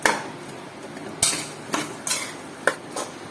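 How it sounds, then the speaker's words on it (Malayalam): Cooked tapioca being mixed and mashed in a metal pot, a handful of sharp spoon clanks and scrapes spaced irregularly against a quiet kitchen background. "ഇത് നന്നായിട്ടൊന്ന് മിക്സ് ചെയ്യാം. മിക്സ് ചെയ്യുന്ന കൂട്ടത്തിൽ നമ്മുടെ കപ്പ ഒന്ന് പതുക്കെ ഉടച്ചു കൊടുക്കാം."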